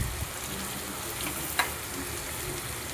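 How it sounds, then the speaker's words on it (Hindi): Fish frying in a pan gives a steady, loud sizzle with crackling spatter, one sharp pop near the middle, and no voices. "देखिए माशाल्लाह से मच्छी फ्राई कर दी सो है मैं"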